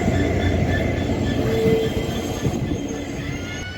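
A WDG4 diesel locomotive on an Indian Railways line near Bodhadi station on the Nanded–Kinwat route gives a loud, steady rumble close by, with a sustained metallic squeal partway through.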